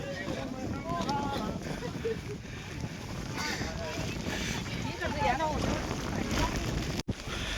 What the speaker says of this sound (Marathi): हे छोटा वॉटरफॉल.